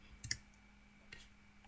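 A single keypress on a computer keyboard, the Enter key struck while working in an Excel spreadsheet, gives a couple of quick soft clicks close by, followed by another faint tap in an otherwise quiet room.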